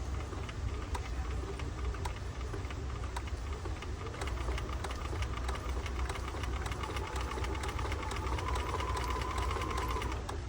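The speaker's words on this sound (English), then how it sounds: "what the machine actually is going to do is it's going to make one stitch and one is going to miss" A Bernina 1030 sewing machine runs a long basting stitch, one stitch then one skipped, giving a steady close mechanical whir with fast regular ticking that carries through the whole stretch without talk.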